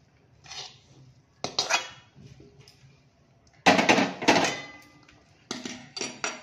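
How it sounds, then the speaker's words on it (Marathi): Cooked potato filling for vada pav scraped from a pan onto a plate, with bursts of metal clattering and spoon scraping, a few separate clusters, close and moderately loud with quiet gaps between. "आता मी गॅस बंद करते आणि हा बटाटा मी थंड व्हायला काढून घेते ताटामध्ये"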